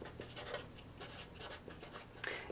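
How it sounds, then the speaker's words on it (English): A pen writes a name on paper beside a foot tracing, giving soft, close scratchy strokes that run continuously for a couple of seconds in a quiet room. "Finally, write your name"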